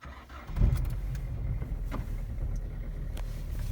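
Cold start of a Citroen Berlingo engine at minus 14 degrees: a click, then a quick crank that catches into a steady, rough idle, close and continuous.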